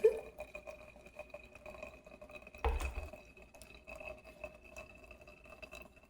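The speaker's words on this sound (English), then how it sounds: "Our coffee is just brewing. Can you hear it?" A single-cup coffee maker brews with a quiet, steady trickle and faint gurgle of water dripping into a cup, with one brief louder burst partway through and no talking.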